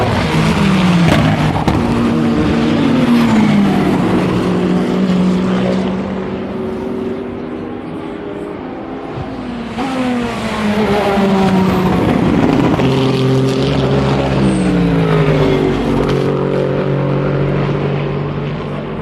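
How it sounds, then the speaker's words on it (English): Race cars roar past one after another at Tertre Rouge, Le Mans 2024, engines rising and falling in pitch as they approach and fade, loud and continuous. "the sound of the cars at Tertre Rouge at Le Mans 2024"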